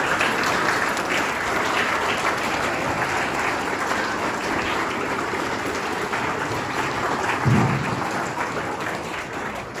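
Children applauding at a school speech event welcoming a guest, a dense, continuous wash of clapping that holds steady and loud throughout with no pauses.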